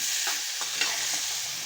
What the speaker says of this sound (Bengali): এখন আমি সবজিগুলি ভেজে নেব, খুব ভালো করে ভেজে নেব সবজিগুলি